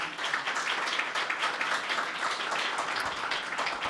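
A church congregation clapping together during a Sunday meeting, a fairly quiet but steady wash of many hands that continues throughout.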